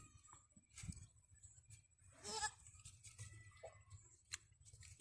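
A goat gives a faint, brief bleat in the middle of a very quiet stretch, with soft ticking and low background noise around it.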